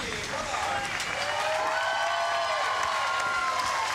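A crowd cheers and applauds steadily at the Rollin' Thunder bowling final of the Australian Bowling Cup, loud and sustained, with an announcer's voice speaking over it.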